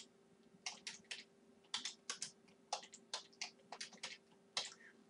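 HTML tags typed on a computer keyboard, steady sharp key clicks in quick clusters over a faint steady hum, close, with no voices.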